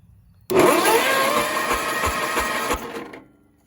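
A Toro Wheel Horse lawn mower engine cranks as its solenoid is shorted across, a loud steady churning whir that starts abruptly, runs for about two and a half seconds with rhythmic low thumps, then winds down.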